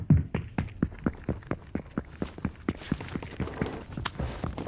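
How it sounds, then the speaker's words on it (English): Footsteps from an upper floor in the Fortnite video game, a rapid running patter of brighter, higher-pitched steps, quick and regular, continuing throughout with no voices. "Footsteps above."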